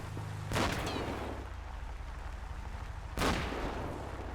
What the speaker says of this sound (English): Stop firing your weapon.